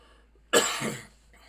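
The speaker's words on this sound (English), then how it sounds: "I coughed" A single sharp cough bursts out close and loud, trailing off over about half a second in an otherwise quiet moment.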